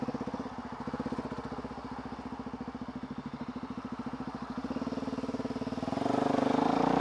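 A motorcycle engine thrums steadily with a rapid pulsing beat, close by, then revs louder near the end as it picks up.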